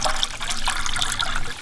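Water rushing and splashing steadily into the bucket intake of a ram pump, a continuous close bright wash of flow.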